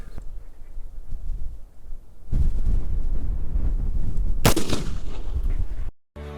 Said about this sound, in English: I'm gonna do this last one shooting like I normally would